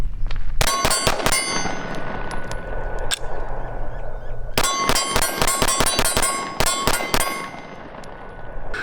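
A pistol fitted with tritium night sights fires a magazine outdoors, with sharp, loud cracks. A cluster of shots is followed by a short pause, then a faster burst of rapid shots, with no talking over the firing.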